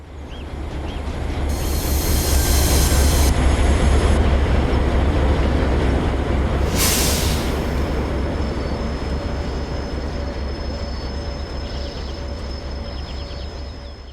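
A diesel locomotive, an ADL or DA class on New Zealand's Midland Line in Train Simulator, runs with a steady loud engine drone and rolling wheel noise, with brief hissing bursts and faint squeals over the continuous rumble.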